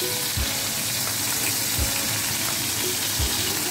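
Chapli kebabs made from raw minced meat fry in a pan with a dense, constant hissing sizzle, punctuated every second or so by a dull low thump as the patties are pressed and turned, no speech.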